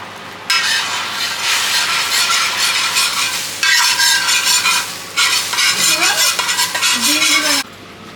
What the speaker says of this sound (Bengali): এখন ডিমটা ফাটিয়ে ভেজে নিব। এখানে 4টা ডিমই দেওয়া হচ্ছে একসাথে।